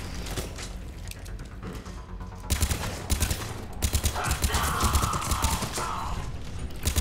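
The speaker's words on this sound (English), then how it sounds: "Oh, that is a turret." Turret in Mass Effect 3 firing rapid repeated shots, starting after a short stretch of quieter mechanical noise and continuing steadily at moderate loudness.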